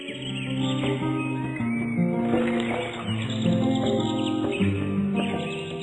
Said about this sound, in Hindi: तेज दोपहर में भी यह पक्षी अपनी ऊंची पूछ के साथ संगीत बिखेरता हुआ बगीचे में कूदता रहता है